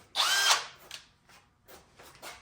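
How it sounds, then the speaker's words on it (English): A power drill whirs in one loud burst, spinning to twist a pair of wires together, followed by a few fainter tool noises and shuffles in a quiet workshop. "Stick it in a drill."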